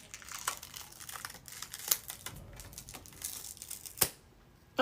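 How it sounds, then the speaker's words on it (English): Liquid latex special-effects makeup being ripped off skin, heard as soft, close crinkling and peeling with a few sharper tearing snaps. "I just rip everything off."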